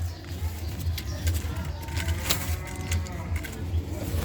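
A crested Patnai lotan pigeon is handled up close, giving soft, low, rhythmic coos beneath a faint background hum, with occasional light rustles and a voice talking nearby.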